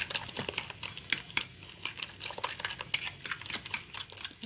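Okra omelette ingredients are stirred together in a bowl, and a utensil clinks and scrapes against the sides in quick, irregular taps, close and crisp, with no talking.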